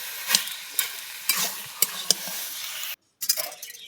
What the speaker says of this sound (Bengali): আর এরকম নারকেলটাও দিয়ে একটু নেড়ে নেবো, সব রকম দিয়ে নাড়াচাড়া করে